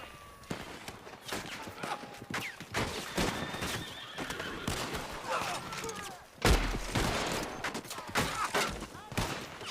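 A Red Dead Redemption 2 shootout, with a horse whinnying amid bursts of rapid gunfire and single shots, plus hoofbeats and in-game dialogue, busy and loud with a heavy blast near the end.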